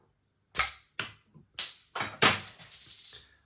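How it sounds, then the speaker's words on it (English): Belgian craft beer, Fils à Papa #13 from Brouwerij De Leite, being opened and handled in a kitchen: a series of sharp glassy clinks and taps, then a brighter fizzing pour into a glass, close and clear. "Let's get the beer out into a glass and see what we get."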